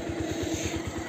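A motorcycle engine runs steadily on a road in thick fog, giving a close, even, low thumping pulse with no voices.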